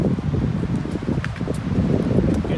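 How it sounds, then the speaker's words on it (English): Steady wind gusts and rumbles across an open hiking trail on the Ouachita Trail on a foggy morning, with rustling and soft crackles throughout and no voices. "Getting windy up here, as you can hear."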